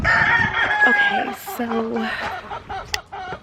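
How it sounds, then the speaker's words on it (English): Chickens cluck and squawk close by during a pouring rain, their calls rising over steady downpour while a person talks briefly. "the chickens are like, what the heck?"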